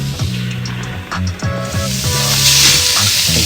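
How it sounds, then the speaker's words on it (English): Burgers sizzle on a cooking setup in a tent in cold weather, a steady close hiss with a tonal background hum rising over the clip and a few faint clinks. "You can see right now I'm cooking the burgers."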